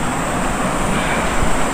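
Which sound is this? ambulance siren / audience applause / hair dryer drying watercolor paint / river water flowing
river water flowing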